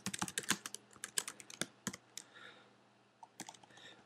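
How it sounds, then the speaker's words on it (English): Rapid, uneven clicks of typing on a computer keyboard, with bursts of quick keystrokes followed by a brief pause and a few more scattered taps, fairly close and quiet with no talk. "Apologies about my typing there."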